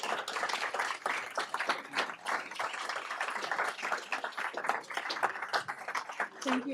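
Scattered clapping from the audience closing an evening event on the Colorado climate action plan, uneven and moderately loud, with voices talking underneath.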